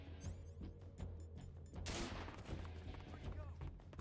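Rapid gunfire in the stealth video game Metal Gear Solid 3, a quick run of sharp shots with a denser burst near the middle, layered over game background sound.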